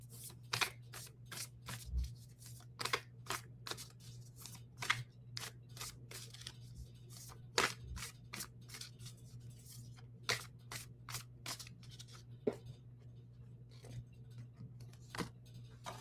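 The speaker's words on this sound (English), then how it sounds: "I'm a slow shuffler." A deck of playing cards being shuffled slowly by hand at a table, a long run of crisp, quiet riffles and snaps spaced irregularly, with a constant low hum underneath.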